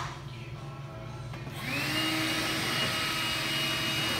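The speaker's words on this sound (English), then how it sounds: "over there vacuuming his AC system" A vacuum pump evacuating the AC system of a Ford F-150 in a garage starts up partway through, rising into a loud, steady mechanical whine and hum over a quieter background, with no talk.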